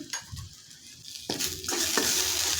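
A sprouted moth bean masala is stirred and sautéed in a pan, with a sizzle that grows fuller and steadier partway through, and a spoon scraping and knocking against the pan.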